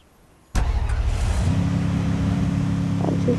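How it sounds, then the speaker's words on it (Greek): A car engine kicks in abruptly after half a second of near silence, then runs on steadily with a low rumble and a rising hum, fairly close and alone with no talk. "Ακούω αμάξι"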